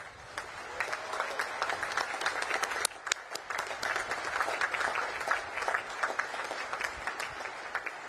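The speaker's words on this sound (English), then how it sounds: "please join me in giving them a heartfelt round of applause" A large audience at a U.S. Naval Academy commencement ceremony breaks into sustained, dense applause for the full stretch, with one brief dip partway through before the clapping surges back steadily.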